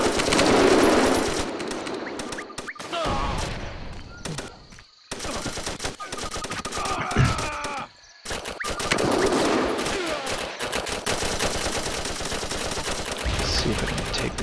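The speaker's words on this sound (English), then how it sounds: "new sound effect for the M16, much nicer than the one before." M16 rifle gunfire in the video game Battlefield Vietnam, rapid automatic bursts repeating over about fourteen seconds with short pauses between them, loud and close against a busy battlefield background.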